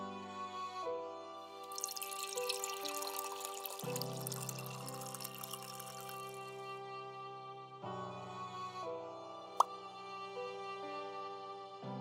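Warm water runs from a tap in a video game, a gentle pour and trickle over soft layered music with a few bright drips, fairly quiet overall and without speech.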